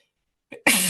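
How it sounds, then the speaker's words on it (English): A single sharp sneeze bursts out after a brief quiet intake of breath, close and loud. "Just sneeze on air."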